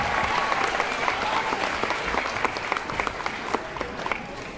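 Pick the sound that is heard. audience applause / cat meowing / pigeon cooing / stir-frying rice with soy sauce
audience applause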